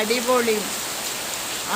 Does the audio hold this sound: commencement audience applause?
no